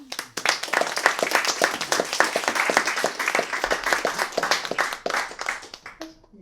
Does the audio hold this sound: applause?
yes